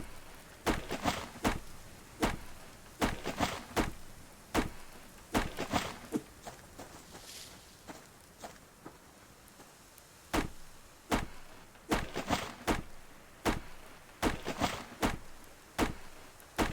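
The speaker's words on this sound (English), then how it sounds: "chop some wood while we wait for the chicken to cook" Repeated wood chopping in the survival game Subsistence: sharp, evenly spaced axe strikes in bursts, a pause around the middle, then more chopping, fairly close with no talk.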